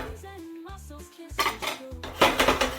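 Onions are stirred in a pot for a Mediterranean seafood stew, a utensil scraping and clanking against the metal in a few bursts, separated by quieter pauses with a low hum underneath.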